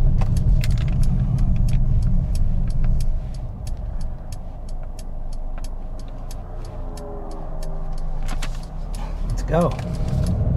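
A 2021 Mercedes A35 AMG sedan pulling away for a road drive, with a low engine hum and road noise under brief talk and a jingle of keys, then a rising rev near the end.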